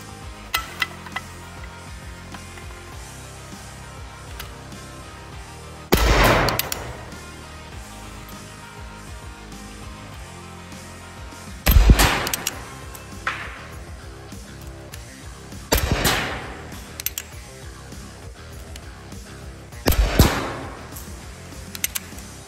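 A Smith & Wesson M&P9 air pistol fires into a chronograph outdoors near freezing, four sharp, loud shots spaced several seconds apart over a steady low background hiss.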